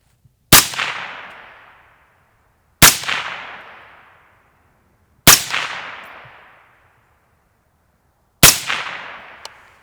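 Four single rifle shots fired while testing a scope, each a sharp loud crack with a fading tail, spaced a couple of seconds apart at an irregular pace.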